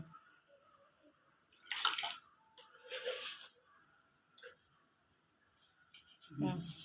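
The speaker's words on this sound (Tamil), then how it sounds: "தேவையான அளவு தண்ணியை ஊற்றி வச்சிட வேண்டியதான்" Water poured into a cooking pot of tamarind and salt for a home-cooked fish curry, heard as a few short, soft gushes separated by quiet gaps, with faint kitchen clatter between them.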